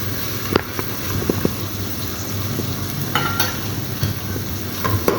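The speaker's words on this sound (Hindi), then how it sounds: "प्याज को थोड़ा चलाते रहना ताकि चारों तरफ से ये अच्छी तरह से गोल्डन ब्राउन हो जाए" Onions fry and are stirred in a pan until golden brown, giving a steady close sizzle with occasional scraping clicks of the utensil, and no voices.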